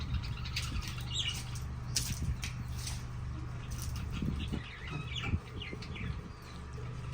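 Chickens cluck and squawk faintly, mixed with a few higher peeps from chicks over a constant low mechanical hum.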